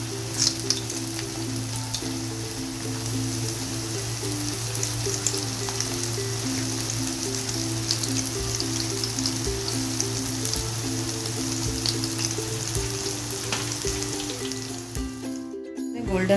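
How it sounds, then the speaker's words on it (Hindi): Chicken spring rolls fry in hot oil with a continuous crackling sizzle, steady and close throughout, over a low hum, until a brief disturbance near the end. "मेरा तेल गरम हो चुका है, इसके अंदर अब मैं स्प्रिंग रोल फ्राई करूँगी।"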